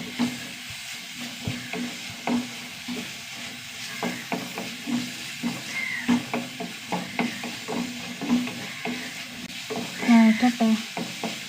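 Shallots sautéing in a pan with ginger and green chilies produce a soft, steady sizzle broken by frequent spoon taps and stirring clicks close by.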